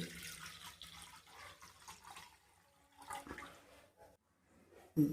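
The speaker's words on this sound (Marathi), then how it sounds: "एक तांब्या पाणी कढईमध्ये टाकून घेते" Water poured from a pot into a kadai on the stove to make green chilli and garlic chutney, a soft rushing splash that fades into quiet dripping, followed by a brief sharp knock at the end.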